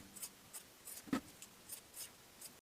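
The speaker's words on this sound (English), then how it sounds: "Trim the corners of each tie." Scissors snipping fabric corners off sewn jumpsuit ties, quiet crisp cuts and light rubbing of cloth in a sparse, irregular rhythm.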